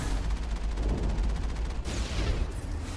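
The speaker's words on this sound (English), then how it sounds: "I like how sometimes the explosion goes up in the air." Dense, continuous gunfire and explosions rumble and crackle through a battle in the video game Mass Effect, with a sharp burst partway through and no pause in the noise.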